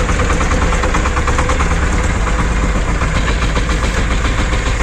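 A universal cultivator engine idles loud and close, a dense, even chugging drone with a rapid steady pulse and no voices.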